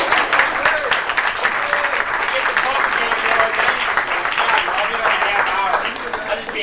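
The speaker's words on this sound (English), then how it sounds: "I'd like you to give them a round of applause." An audience at a 1991 twenty-year class reunion applauds, dense sustained clapping from many hands filling the room for several seconds, fading slightly at the end with faint voices mixed in.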